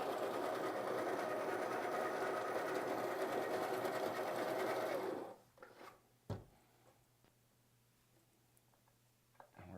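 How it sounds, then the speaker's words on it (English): A Baratza coffee grinder, just unclogged, grinds coffee beans with a loud, steady motor whir for about five seconds. It then cuts off, leaving a few quiet clicks and a single clunk. "Back to grinding."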